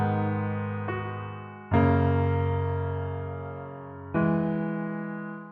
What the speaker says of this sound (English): This is an amazing piano just built into FL Studio.